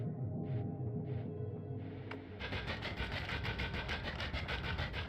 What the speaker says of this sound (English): So here's my pathetic drill.